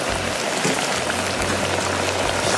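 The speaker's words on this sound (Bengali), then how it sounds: "আমি এখন এটাকে শাকগুলি দিয়ে দিচ্ছি" Leafy greens drop into a pan where a fish head is sautéing, and a loud, dense sizzle hisses steadily and evenly throughout.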